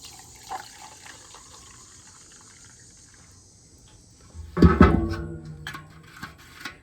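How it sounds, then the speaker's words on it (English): Kerosene poured into a small aluminum can with its top cut off, a brief gurgling splash of liquid rising for about two seconds midway, with quieter trickles after and near-silence before. "we'll get our kerosene here poured into our cup"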